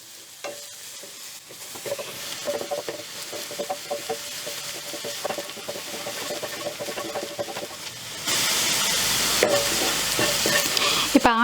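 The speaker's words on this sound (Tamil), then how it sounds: "இது கொஞ்சம் நல்லா ஃப்ரை ஆகட்டும் ஆனியன்" Finely chopped onion sizzles and fries in a pan, a steady crackle with stirring scrapes throughout; the sizzle grows louder and brighter near the end. No one speaks.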